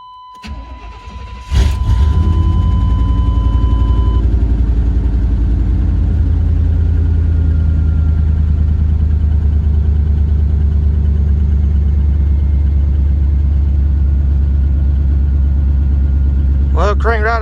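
A 1993 Chevrolet K1500 pickup engine cranks briefly, catches and settles into a steady, loud idle that holds for the rest of the clip.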